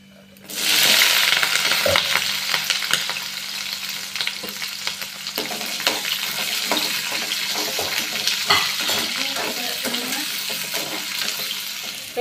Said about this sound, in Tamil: வெங்காயம், பச்சை மிளகாய் ரெண்டையும் சேர்த்துக்கலாம்.